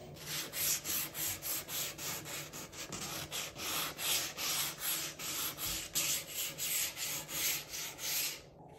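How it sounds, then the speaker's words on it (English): Light sanding across a DIY mirror frame, a steady run of close back-and-forth scuffing strokes with an even rhythm that continues for about nine seconds and then stops. "I'm back and I'm ready to sand."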